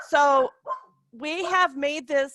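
A dog barks loudly and close by in a home, giving several sharp barks and yips in quick succession, overlapping a man's speech.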